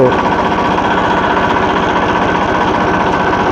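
A loud Massey Ferguson DI 9500 tractor diesel engine chugs steadily in first gear with a fast, regular mechanical knock, running close by without a break.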